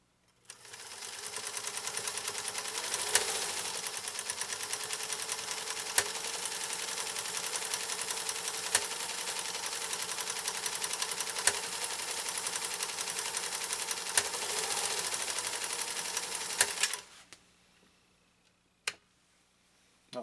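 A PFAFF 332 sewing machine runs a continuous stitch for about seventeen seconds, a fast even mechanical whir with faint periodic clicks, close and alone, then stops, leaving a few light taps in quiet.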